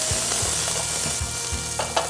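Chopped onions sizzle and fry in butter in a pan for risotto, with steady crackling and the rhythmic knock of a wooden spoon stirring.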